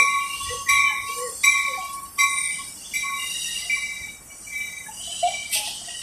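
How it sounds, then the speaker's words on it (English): An Amtrak train led by a Siemens Charger locomotive and bound for Sacramento, with a double-decker car, passes with regular clanks over the rail joints and thin, ringing wheel squeal, moderately near and without talk. "And another Siemens Charger."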